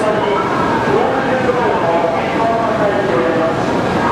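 A train arriving at a platform in Japan, a steady rolling rumble with faint high squeals and tonal hums, under occasional talk nearby.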